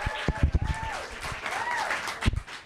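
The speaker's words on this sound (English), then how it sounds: "One more round of applause for Yara." Applause at an outdoor ribbon cutting at Eastie Farm, scattered claps rising and falling as a crowd cheers, with a whistling or squealing tone sliding over the top.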